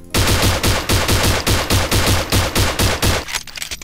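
Rapid-fire pistol in the Space Pirate mod for Doom 2, a loud, fast, evenly spaced burst of about sixteen shots in a row that cuts off abruptly.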